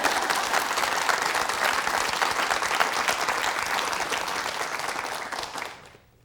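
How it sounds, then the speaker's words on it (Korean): A studio audience on a KBS morning talk show claps in a full, steady burst of applause that tapers off and fades out in the last second. "박수 치세요."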